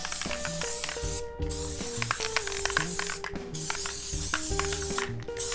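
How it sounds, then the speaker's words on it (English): Elmer's adhesive spray being sprayed onto small plates in a DIY glitter project, three long continuous hissing bursts separated by short pauses, close and loud over background music. "So, my favorite, Elmer's adhesive spray."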